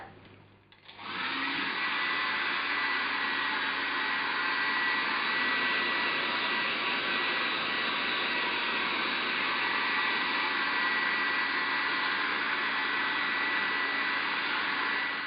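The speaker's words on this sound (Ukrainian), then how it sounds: "І знов фен." A steady, loud rush of blowing air starts abruptly after a brief quiet moment and holds constant, like a hair dryer running on high.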